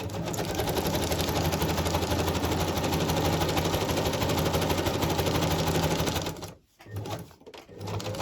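A sewing machine stitches steadily in a fast, continuous mechanical rattle, close by, then stops abruptly near the end with a couple of brief bursts.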